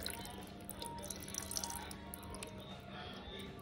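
Tamarind water is poured into a Thermomix TM6 for fish curry, heard as soft close dripping and splashing liquid over faint background noise.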